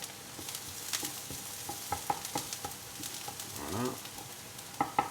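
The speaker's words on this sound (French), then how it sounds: "une fois que votre poêle est bien chaude, vous mettez votre viande hachée" Ground beef is searing in a hot frying pan, a steady crackling sizzle with scattered sharp pops and a stir scraping through the middle. A voice briefly speaks near the end.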